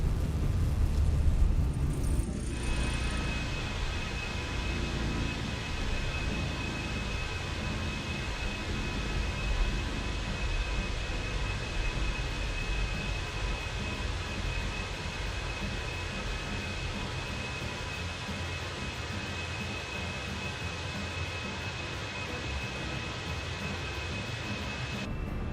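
Jet airliner engines roar at takeoff power in a flight simulator, forming a steady broadband rush with a thin high whine, continuous and loud for the whole stretch, with no voices.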